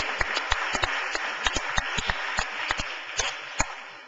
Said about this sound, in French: Merci Océane, on l'applaudit, elle est courageuse